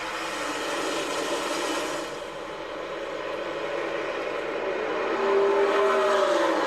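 NASCAR stock cars racing at Nashville Superspeedway during stage two of the 2023 race, a steady roaring engine drone that swells slightly toward the end, with no talk.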